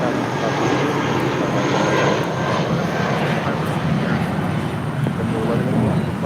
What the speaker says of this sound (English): This is JetBlue 1180 taking off to Las Vegas on an A320